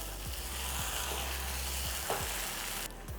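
Plantain pepper fry with fresh green curry leaves sizzles steadily in a pan, a bright continuous hiss with a few scraping stirs of a spoon against the metal, close and alone without talk.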